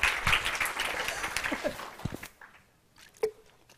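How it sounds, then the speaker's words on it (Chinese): A conference audience claps to welcome a presenter at an open-source software event, a burst of applause that fades out after about two seconds, leaving a quiet hall with a faint thump. "那让我们再掌声欢迎一下"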